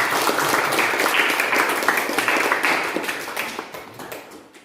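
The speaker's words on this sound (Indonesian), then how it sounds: "Tepuk tangan untuk kita semua." A classroom of students applauds together, a lively burst of many hands clapping close by that gradually fades out over a few seconds.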